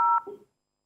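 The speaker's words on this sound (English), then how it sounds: "Is someone playing with a dialing pad there? A dial tone is interrupting your speech." A single short telephone keypad tone, a steady electronic beep lasting about a fifth of a second, followed by a faint fragment of sound, then silence.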